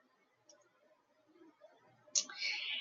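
A computer mouse gives a soft click, then a sharper second click a moment later, both close and quiet against near silence.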